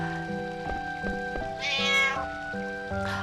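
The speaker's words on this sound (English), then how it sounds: "Oh, that's a cat." A cat meowing in Final Fantasy IX, a drawn-out meow rising over looping in-game music with soft rhythmic tones, fairly prominent and brief.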